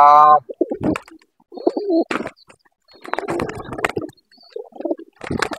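Pigeons with their chicks, a series of close, soft cooing and rumbling calls in bursts with short pauses between them and no other sound around.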